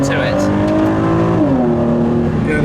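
Engine revving from a car in a car museum, loud and close: a sustained rising tone that dips and shifts pitch midway, with faint voices at the start and end.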